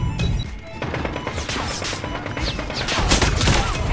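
Rapid AK gunfire in Call of Duty Mobile, a dense, loud burst of shots going nearly nonstop for about four seconds, growing slightly heavier toward the end.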